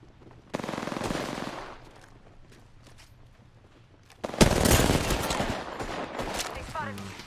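Gunfire in the Halo video game, with a sustained automatic burst near the start, a lull, then a louder, denser volley of rapid shots and impacts, with a voice talking now and then.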